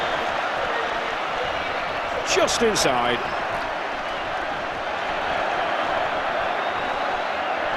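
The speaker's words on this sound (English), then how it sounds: "the Hull crowd's got something to shout about" Hull rugby league crowd at the 1985 Challenge Cup Final against Wigan, a broad distant roar and cheering from a large stadium, swelling briefly under steady commentary with a short whistle.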